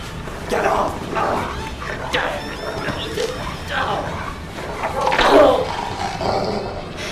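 Dog barks and whimpers from a hostile animal in the Deadly Premonition Director's Cut video game, recurring in short bursts over a busy bed of game sound and a voice talking throughout.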